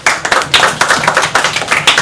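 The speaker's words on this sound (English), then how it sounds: "let us give a big round of applause again" A crowd gives a round of applause at a school parents' gathering, steady rhythmic clapping from many hands, close and loud, with no talk over it.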